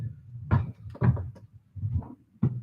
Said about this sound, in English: I'm sure you guys can hear that rattling upstairs.